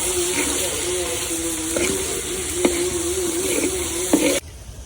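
Bitter gourd (karela) frying in hot oil with salt and turmeric, a loud constant hissing sizzle with a few stirring clinks, cutting off abruptly near the end, with faint talk beneath.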